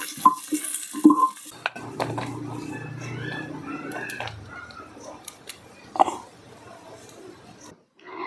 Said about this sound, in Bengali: পেঁয়াজটাকে হালকা বাদামি করে ভেজে নেব।